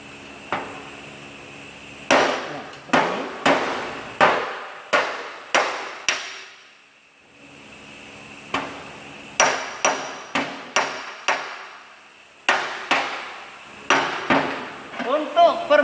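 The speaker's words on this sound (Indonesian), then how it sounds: "kalau pukulnya pas sini berarti akan meratakan permukaan yang tidak rata tadi" A hammer taps an automotive body panel to flatten an uneven surface, striking in close sharp bursts of several blows separated by short pauses, including a longer gap near the middle.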